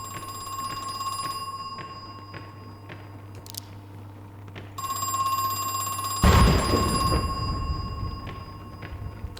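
A telephone rings in the horror video game Crow Country, an electronic ring held over a low hum, followed by a sudden loud burst of noise partway through. No one speaks.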